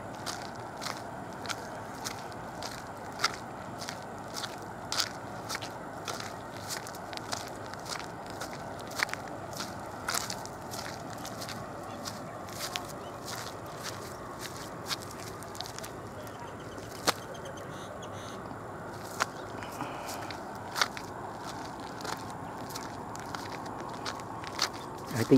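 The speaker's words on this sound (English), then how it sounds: "I think you can hear my footstep. Footstep. Very noisy." Footsteps crunch along a path near lakes in rural Malaysia, a steady series of close, gritty treads with scattered louder crackles, continuing evenly over a quiet outdoor background.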